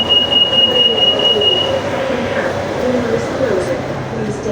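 An MRT metro train pulls into a station with a steady loud rumble and a high wheel squeal that fades out partway through, then continues rolling as it slows.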